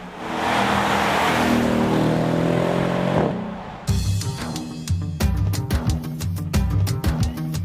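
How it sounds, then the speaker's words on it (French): A powerful V8 engine in a Mercedes E63 S AMG roars as the car accelerates, rising in pitch, then shifts and rumbles with throaty bursts close by. "la sonorité de ce V8 qui nous colle au siège à chaque accélération"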